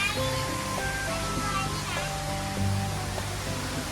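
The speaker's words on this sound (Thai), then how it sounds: "น้ำตกสวยงาม" A garden waterfall pours with a steady, loud, full rushing roar that never lets up, while people talk nearby over the water.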